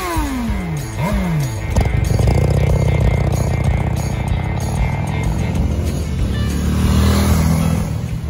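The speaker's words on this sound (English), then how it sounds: "Today, I have the pleasure of riding this sweet 2022 Rebel" A 2022 Honda Rebel 500 motorcycle being ridden, its engine revving up briefly at first and then settling into a loud, steady, close drone with wind rush.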